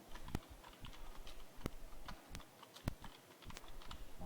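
Keys clatter on a computer keyboard in an irregular run of soft clicks, with a few sharper, louder keystrokes standing out, close by and with no one speaking.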